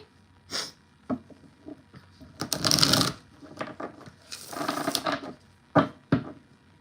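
Tarot cards being shuffled by hand, with several short riffling bursts separated by pauses and small taps and handling noises, close and fairly quiet, with no talking.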